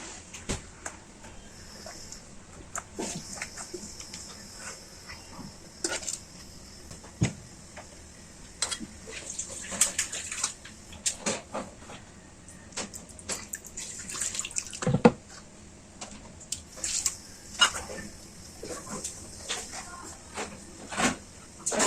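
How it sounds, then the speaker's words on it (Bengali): Hilsa fish being washed with water for a steamed mustard recipe, with faint, sparse splashes, drips and little clicks scattered over a quiet background. "পানি দিয়ে ধুয়ে দিয়ে দিচ্ছি।"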